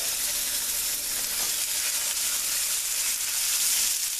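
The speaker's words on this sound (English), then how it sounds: "It's on medium heat, preheated with some olive oil, and we're going to throw about 5 ounces of ribeye" About five ounces of diced ribeye steak sizzles loudly and steadily in a frying pan preheated on medium with olive oil, a constant crackling hiss with no talking.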